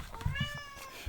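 A pet cat meows in one drawn-out, rising and falling call, close by and fairly loud, with faint handling noises underneath and no talking.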